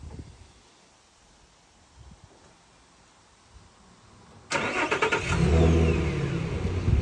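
Nissan Frontier started by remote start, no factory system: quiet outdoor ambience, then the engine cranks and catches abruptly, settling into a steady rumbling idle nearby.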